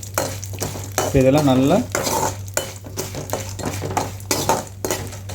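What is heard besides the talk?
peanuts and chana dal frying in oil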